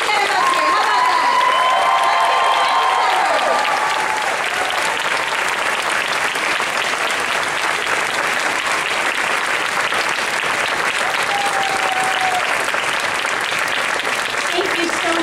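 Sustained applause from a theater audience at a 35th anniversary show at Disney's Hollywood Studios, dense clapping filling the space, loud and continuous throughout with light crowd noise mixed in.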